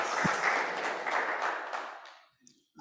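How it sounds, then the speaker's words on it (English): A conference audience claps in a loud burst of applause lasting about two seconds, then it quickly fades to near silence with a last stray clap. "Clap for that. Should we clap for that?"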